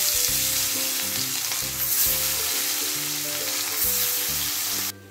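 Pieces of bata fish frying in hot oil, a loud dense continuous sizzle with low bubbling that holds steady, then cuts off abruptly near the end.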